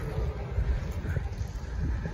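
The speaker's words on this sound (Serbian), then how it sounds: "brod prođe" A tour boat passes along the Saint-Martin canal in Paris, its low engine rumble steady and close beneath gusting wind noise, with no talk over it.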